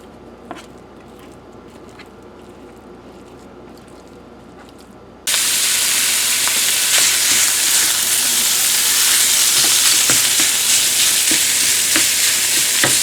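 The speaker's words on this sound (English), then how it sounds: "let's get this pound of sausage into the frying pan. As we brown it, I'm just going to chop it up a little bit" A pound of ground pork sausage hitting a frying pan: quiet room tone, then a sudden loud, steady sizzle and spatter as it browns, with light scraping of a utensil breaking it up.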